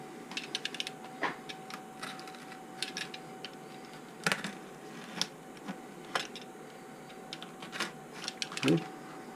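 Sharp knife blade cutting quarter-inch-deep slots into a balsa spar for a Mini Stinger model plane, heard as scattered small clicks and scrapes, fairly quiet, with brief pauses between cuts and a low steady hum behind.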